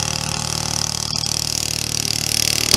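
Vintage pre-World War II racing hydroplane boat thunders past, its loud, rough engine roar steady and close with a slight swell toward the end.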